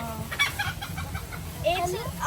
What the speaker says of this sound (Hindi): यहाँ पे ना ये मुर्गे और मुर्गियाँ इन्होंने रखे हुए हैं